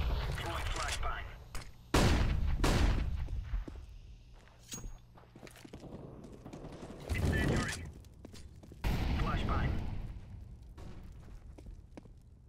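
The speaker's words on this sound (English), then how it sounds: "Throwing flashbang." Flashbang grenade thrown in CS:GO on the de_mirage map, heard amid a busy gunfight with loud bursts of gunfire, sharp bangs and footsteps, several strong impacts near and far.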